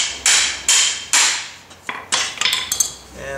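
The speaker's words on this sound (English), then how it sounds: "knock that rake handle or that rake off of there" A hammer striking metal to knock a rake head off its wooden handle, several sharp ringing blows at uneven intervals followed by smaller clinks, close and loud.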